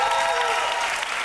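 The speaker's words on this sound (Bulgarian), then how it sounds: "И разбира се, силни аплодисменти за Емануела!" A television studio audience applauds loudly, a dense, even burst of clapping that fills the whole moment and tapers slightly at the end.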